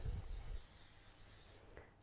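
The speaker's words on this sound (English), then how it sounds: "Get that ready to go and just give that a spray." A short burst of cooking spray hisses into a loaf tin for about a second and a half, close and steady, then cuts off.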